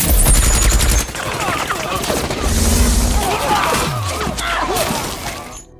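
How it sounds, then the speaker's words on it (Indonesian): Gunfire and shattering from a weapon in an action film scene, dense bursts with crashing debris and deep booms, loud and close, overlapping other movie sound effects. "Duncan pun mengaktifkan senjatanya sehingga kekacauan pun terjadi"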